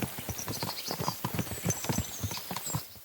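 Horse hooves clip-clopping in a steady irregular run of close steps in the video game Kingdom Come Deliverance 2, with a faint whinny-like tone in the background.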